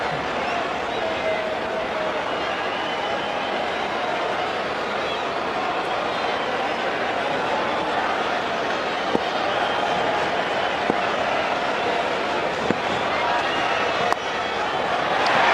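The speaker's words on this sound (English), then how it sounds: "Loud cheer again from the capacity crowd of the Wanderers" A capacity crowd at the Wanderers cricket stadium in a South Africa versus India match keeps up a steady, broad roar of cheering throughout, with a few sharp knocks near the end.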